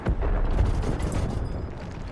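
A tank shell explosion in the World of Tanks battle game, a broad, loud boom that rolls on for about two seconds with a dense, rumbling low end.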